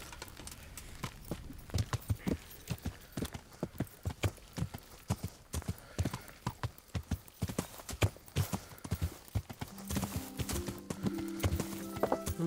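A horse's hooves clip-clop steadily in the medieval video game Kingdom Come: Deliverance, a regular trotting rhythm of close, distinct hoofbeats, with faint background tones and a brief musical cue near the end.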